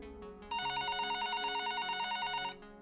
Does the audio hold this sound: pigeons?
no